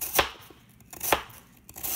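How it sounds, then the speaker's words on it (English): A knife chops thin slices of lotus root on a cutting board for a black bean and coconut milk dessert, making three sharp, close thuds spaced about a second apart with quiet gaps between. "I'm gonna keep cutting this up"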